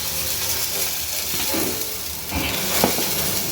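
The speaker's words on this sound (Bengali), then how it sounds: "ক্যারামেল করতে দিয়েছি।" Sugar caramelizing in a hot wok for semai payesh gives a steady, soft sizzling hiss with faint stirring scrapes, close by and continuous, with no talking.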